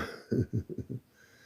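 A quick burst of four or five short, dry coughs close to the microphone, followed by quiet.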